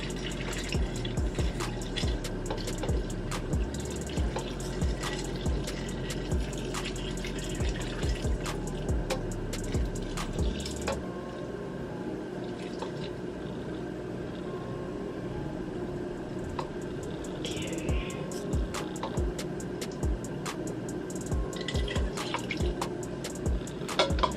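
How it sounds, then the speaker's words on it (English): Curtido brine, the liquid for a Salvadoran spicy slaw, is poured into jars in a continuous trickle and splash. It is fuller and heavier at first and then turns thinner with faint drips, quiet and close, with no talking. "then I'm just gonna fill this liquid."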